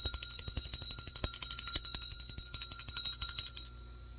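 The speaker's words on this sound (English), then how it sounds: "Let's ring the bell." A small bell rung during a full moon tarot reading with a Moonology deck, giving a steady stream of rapid bright metallic rings and shimmering tones for several seconds before cutting off abruptly, with no talking.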